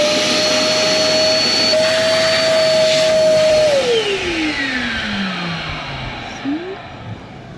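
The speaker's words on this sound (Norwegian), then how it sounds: "vi støvsuger først" Vacuum cleaner running aboard a boat: a loud, close motor whine holds a steady pitch, then winds down in a long falling glide as the motor is switched off, leaving a fainter hum.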